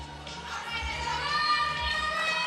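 Audience at a women's pro physique and figure bodybuilding competition cheering and shouting throughout, a steady crowd roar that swells midway, with excited voices mixed in.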